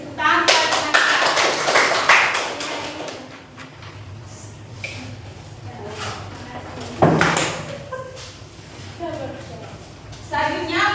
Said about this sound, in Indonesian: tepuk tangan kepada teman-teman